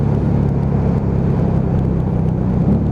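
A Lexmoto Vendetta 250cc motorcycle on the move, its engine giving a steady loud throbbing drone mixed with road and wind noise, unbroken for the whole stretch.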